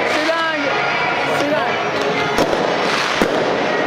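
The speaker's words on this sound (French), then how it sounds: "Oh là là là, les feux d'artifice." Fireworks crackle and pop nearby amid a loud, cheering crowd at a district football cup final, with sharp bangs punctuating the continuous roar and excited voices.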